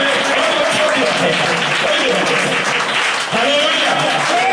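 A church congregation clapping in thanks, dense sustained applause from many hands filling the room, with speech audible beneath it.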